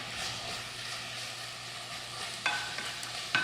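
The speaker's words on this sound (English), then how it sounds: "we're going to cook off the tuna and the garlic and the capers together for a few moments" Tuna, garlic and capers fry together in a pan with a steady, close sizzle, and two sharp scraping knocks of stirring come near the end.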